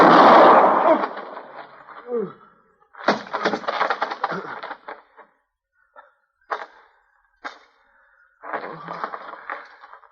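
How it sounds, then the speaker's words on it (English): Sharp staged gunshots and loud cracks in an old-time western radio drama, fired in scattered bursts among shouted dialogue, close and punchy with silent gaps between them. "Shoot him, Jalop. Shoot him"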